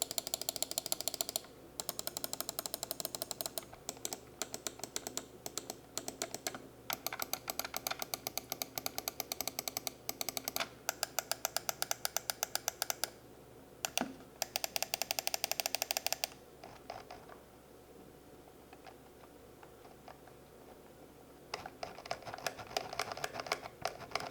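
Rapid mechanical ratcheting clicks of a Cougar Minos Neo gaming mouse scroll wheel being rolled back and forth in bursts, close and fairly loud, with short pauses between runs.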